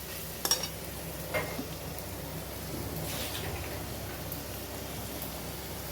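Ginger garlic paste stirred in a pan, a soft continuous sizzle with a few faint spoon scrapes and knocks against the metal, low and close with no talk.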